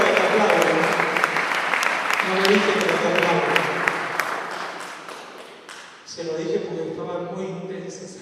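Audience applause at a church service, a dense wash of clapping that swells and then fades before a voice resumes speaking over it near the end.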